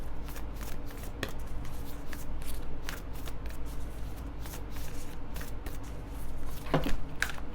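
Moonology oracle cards are shuffled by hand in a continuous soft riffling and sliding, a close, quiet, steady shuffle lasting the whole stretch with a few sharper card snaps near the end.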